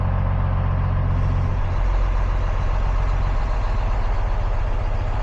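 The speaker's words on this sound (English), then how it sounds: "Our engine is idled up. Now it is opening and closing the actuators as they need to" A Cummins ISL9 diesel engine idles with a deep, steady, close rumble while its actuators open and close, the low tone shifting slightly partway through with no talk.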